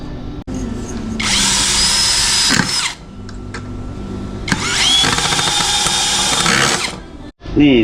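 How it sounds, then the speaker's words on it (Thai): A power drill whirs loudly in two long bursts, its pitch rising and straining as it drives screws into a small wooden chair, with short pauses and clatter in between. "เจาะสกูยึด"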